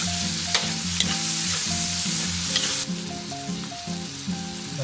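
Chinese sausage and tomatoes sizzle in a pan as pork pochero gets started. The frying crackles steadily and close up throughout, with stirring and a melodic background tune underneath; nobody speaks.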